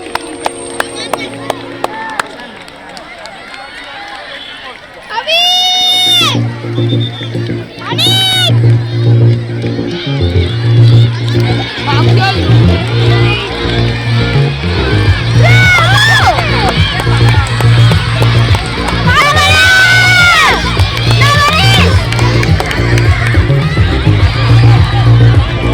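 Crowd of children and adults shouting and cheering at a school sports day race, loud and sustained with rising bursts of excited voices over a steady background hum, after a brief quieter start.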